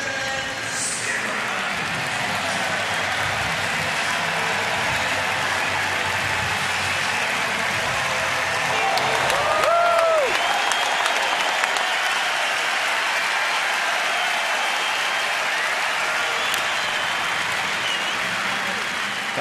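Baseball stadium crowd roars steadily as Jordan Zimmermann comes to bat in a Marlins at Nationals game, a broad, continuous wall of cheering and applause with a brief rise in the middle and some whistles.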